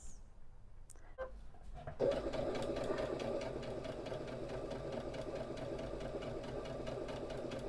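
Sewing machine stitching around patchwork wrap pants, a quiet start with a few clicks, then a steady rapid mechanical whirring hum of the needle running continuously close by.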